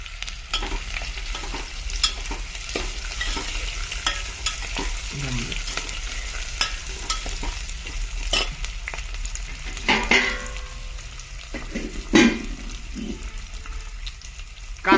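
Long-sliced onions fry and get stirred in a pan for chicken pulao, a steady close sizzle broken by scraping strokes and a few louder clanks near the middle and end.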